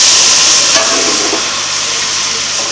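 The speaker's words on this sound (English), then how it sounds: "Now all you need is a few ladles of that into the pot" Chicken stock ladled into a hot pot of fried onions and duck in a working restaurant kitchen in Umbria, Italy, produces a loud, close, steady hiss and sizzle of liquid hitting the hot pan.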